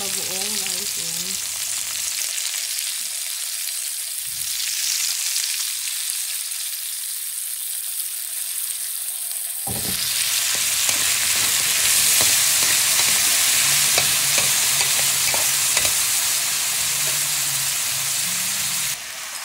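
Stir-frying with shrimp paste (bagoong) in a hot pan, a loud, close, continuous sizzle and hiss that intensifies midway, with scraping stir strokes throughout.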